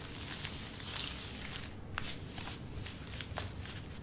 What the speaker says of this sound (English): riffle, riffle, box, riffle. That's the professional casino poker shuffle.